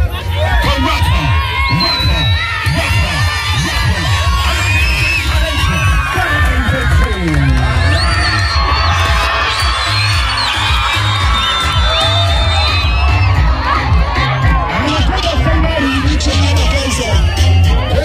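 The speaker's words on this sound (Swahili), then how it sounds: "Ninaomba nisikie kelele nyingi sana kwa Rapa." A large audience at a youth talent competition final cheers and shouts loudly and continuously, with whoops and children's voices in a dense, sustained roar.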